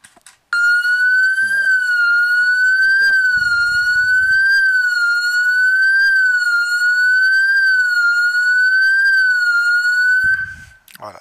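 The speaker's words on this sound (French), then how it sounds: "Je dévisse ici. Et ça va sonner." An Ajax StreetSiren alarm siren sets off after being tampered with, a loud, close, sustained electronic wail that rises and falls gently for about ten seconds before cutting out, with brief handling noises around it.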